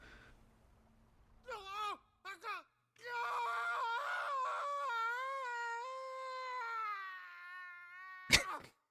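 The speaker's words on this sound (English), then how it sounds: "That was a kind of a funny scream." A woman's scream from a fight scene in the video game Final Fantasy XVI: short wavering cries, then a long sustained, pitch-bending shriek lasting several seconds, ending in a sharp hit.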